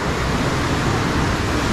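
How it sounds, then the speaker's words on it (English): Wave machines at Europa Park churn water into waves, a dense, steady roar of wash and surf that stays loud and unbroken throughout. "look at the wave machines on this. Look at them waves"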